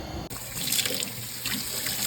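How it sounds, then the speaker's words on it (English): Tap water runs steadily into a sink while a plate is washed, a close, continuous splashing stream with small clinks and shifts in the flow. "We're gonna wash our plate to make sure."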